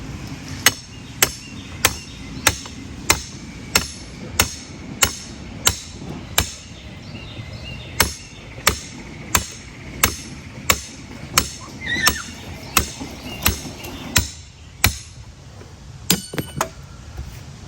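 A bent metal stake for a KidKraft play set is hammered into the ground with about two dozen sharp, ringing strikes at a steady rhythm, close and loud, with a brief pause near the end.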